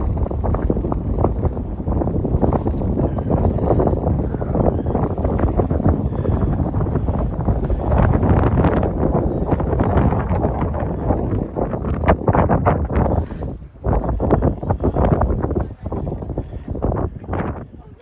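Strong wind buffets the microphone on an open hillside walk, a loud, constant low roar with gusty surges that drop away briefly near the end.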